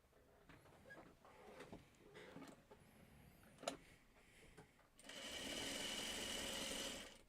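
A sewing machine stitches in a steady, loud run during the last couple of seconds, after quieter handling noises and faint clicks.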